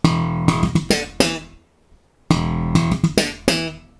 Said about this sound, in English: So the first part of the riff is that really popular slap move that sounds like this.